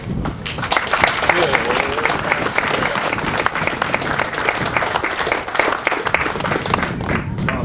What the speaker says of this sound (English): please give a large round of applause for our congressman